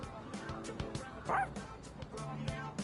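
A dog barks in the Persona 3 Reload video game, short yips and a whimpering bark heard faintly among background game sounds.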